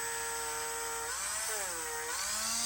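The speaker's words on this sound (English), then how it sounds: "I put it into the Dremel and I load it up with wax." A Dremel rotary tool spins in a leather shop while wax is loaded onto its attachment: a loud, continuous high whine whose pitch sags and recovers as the wax presses against it.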